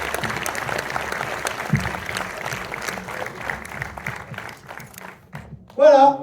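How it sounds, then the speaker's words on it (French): A full cinema hall audience at a film premiere in Orléans applauds steadily, a broad sustained wash of clapping that fades toward the end before a voice speaks up close. "vous pouvez vous applaudir, c'est un vrai bonheur de voir cette salle pleine"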